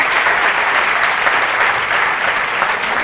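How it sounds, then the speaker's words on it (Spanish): Steady applause from a live audience at a school or community talk on everyday mathematics, dense and sustained clapping throughout with no pauses. "les damos un aplauso a estos amigos."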